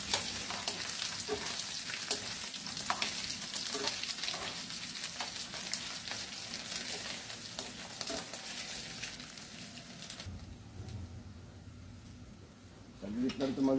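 Food frying in a pan, a close, continuous sizzle with stirring scrapes that quiets near the end, under intermittent casual talk.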